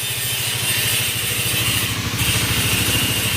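A motorcycle engine idles close by with a steady, even low putter, its rapid regular firing pulses continuing unbroken throughout, no voices over it.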